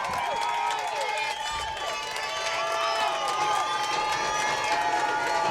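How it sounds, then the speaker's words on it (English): A dense crowd at a Babe Ruth World Series baseball game in Pittsfield, Massachusetts cheers and roars continuously, loud and close, with overlapping shouts and whistles. "Look at this crowd. Wow, it's deafening."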